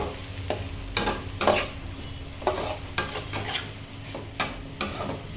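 Onions and eggs fry in a pan for an egg fry to go with stone-cooked mutton, giving a steady sizzle broken by loud, repeated scraping stirs of a spatula. No one speaks.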